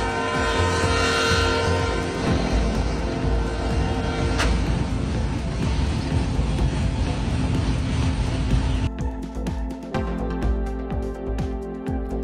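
A train collides with a car blocking the track, cracking its cockpit glass: loud, close rumble of rail cars with a horn blast, then a sudden shift to clattering and quieter rolling noise near the end.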